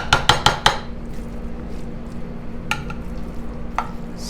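A utensil scrapes and taps against a pan while a cheesy casserole mix made with cream of mushroom soup is spread out, giving several quick close knocks followed by softer scraping.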